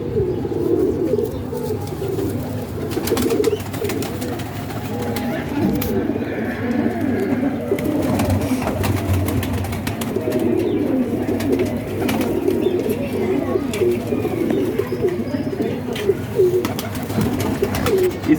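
Pigeons in a pigeon-keeping loft coo continuously with overlapping low, rolling calls, near and fairly loud, while someone talks over them throughout.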